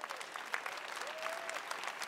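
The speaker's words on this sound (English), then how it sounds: "Let's give them all a round of applause." Crowd applause at the EA Play 2018 live event, dense and continuous clapping with scattered cheers, heard at a middle distance and holding steady throughout.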